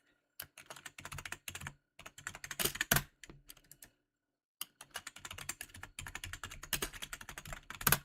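Rapid typing on a computer keyboard, close and fairly quiet, with dense bursts of key clicks broken by a couple of short pauses.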